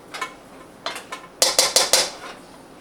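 A utensil chops and stirs cooked rice in a pot for homemade Cajun boudin: a few scattered scraping clinks, then a quick run of four sharp metallic knocks close by, with no voices.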